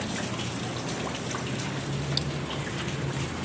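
Steady, dense rain pours down during Hurricane Michael in Georgia, a continuous close hiss with scattered drop impacts and no voices.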